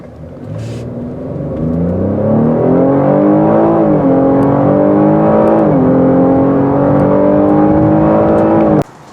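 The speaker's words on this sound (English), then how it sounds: "Let's do a 0 to 60 run in the sport all-wheel drive mode." A 2021 Cadillac XT5 with a 3.6-liter V6 in sport all-wheel-drive mode accelerates hard from 0 to 60, its engine note climbing loudly and steadily through two audible upshifts before cutting off abruptly.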